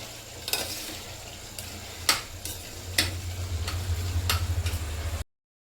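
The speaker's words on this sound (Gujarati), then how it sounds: "એ પણ વઘારને થોડીક વાર પાકવા દઈશ 5-7 મિનિટ." Spices for a tempering fry in hot oil in a pot for a bottle gourd and chana dal curry. A steady close sizzle runs throughout, broken by a few sharp stirring clinks, with no talk.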